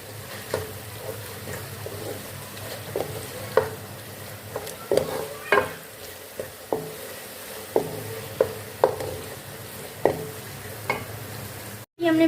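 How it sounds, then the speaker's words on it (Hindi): Minced meat frying in cooking oil in a pan, a continuous sizzle punctuated by regular scraping stirs of a spatula, close and moderately loud, with no talk. "अब 2 से 3 मिनट हमने कीमे की भुनाई कर लेनी है।"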